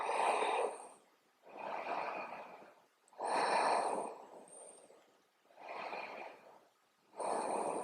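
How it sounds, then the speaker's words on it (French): Slow, deep breathing during a yoga session: five long, audible breaths, alternating inhales and exhales with pauses between them, close and soft, with no talking. "On reste là encore pour 2 respirations."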